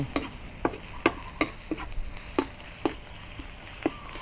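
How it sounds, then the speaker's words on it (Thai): Garlic stir-fried in vegetable oil in a wok while cooking black-pepper stir-fried sea bass: close, irregular scraping knocks of a spatula every half second or so over a faint steady sizzle, no talk. "ดิฉันใส่กระเทียมเยอะเดี๋ยวขอเติมน้ำมันพืชน้อยนึง ผัดให้หอมเลยนะคะ"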